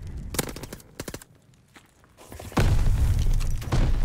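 Frag grenade blast in Call of Duty Vanguard ranked play: a few sharp gunshots and footsteps, then a loud, sustained booming explosion rumbling close by.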